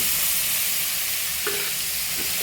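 Onions and tomatoes frying together in a pan for kathrikai thokku, an eggplant relish, with a loud, dense, continuous sizzle and a brief stir near the end.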